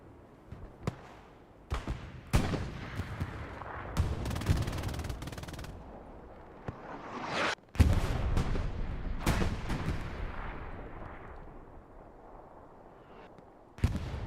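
Machine gun fire in the World War II video game Hell Let Loose crackles in repeated bursts of rapid shots, mixed with heavier booming impacts, moderately loud with no voices.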